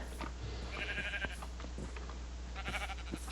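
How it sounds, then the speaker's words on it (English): Several sheep bleat in the Minecraft video game, in short, quiet calls spread across a steady background hum, with a few brief clicks between them. "Oh, there are 3 sheep up here."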